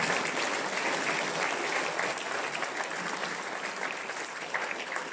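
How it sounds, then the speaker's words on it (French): An audience at a mayor's New Year ceremony in Aubord gives steady, even applause, a dense patter of many hands clapping continuously at moderate volume. "Je crois qu'on peut encore l'applaudir."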